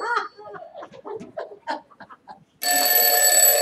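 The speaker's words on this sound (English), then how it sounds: "Now let me make sure the alarm's actually on." A loud electronic alarm bursts on abruptly after a stretch of soft mixed sounds and rings steadily and shrilly, a bright harsh tone that holds without pause to the end.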